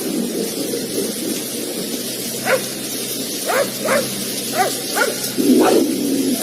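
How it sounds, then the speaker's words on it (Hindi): A dog barks in short yips and whines several times over a steady background of rain and rumble, moderately close. "पॉमी के भौंकने और रोने की आवाजें सुमित को परेशान किए जा रही थी।"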